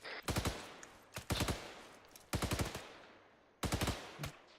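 Bursts of rapid gunfire during a firearms training drill, several tight strings of close, loud shots separated by short pauses.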